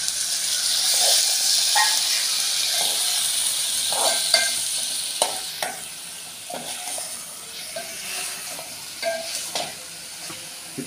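Curry with turmeric sizzles steadily in a pan on the stove while a spoon scrapes and stirs it in irregular strokes, loud and close throughout.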